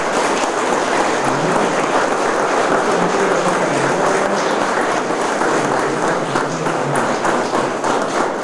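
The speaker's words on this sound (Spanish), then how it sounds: "¿Pueden dar un aplauso?" A church congregation applauds together, a dense, steady wash of clapping from many hands that fills the room at an even level throughout.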